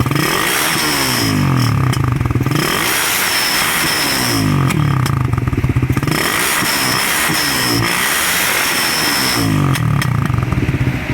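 A motorcycle engine with a backfiring fault is revved hard in repeated cycles, rising and falling about every two seconds, with sharp popping bursts at each rev, loud and close.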